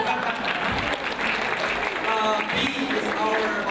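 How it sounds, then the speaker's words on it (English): An audience at a digital exhibition of Qing dynasty palace artifacts applauds warmly, a steady mass of clapping that lasts the whole moment with a voice faintly audible beneath it. "So let's give a round big applause for Tim."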